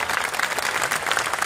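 Short burst of thick audience applause for Carlo Verdone at an outdoor cinema event in Trastevere, steady and fairly close with no pause.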